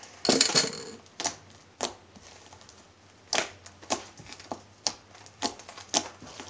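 Clicky slime is squished and worked by hand, making sharp, crisp clicks and pops in irregular bursts, close and fairly quiet, with no talking.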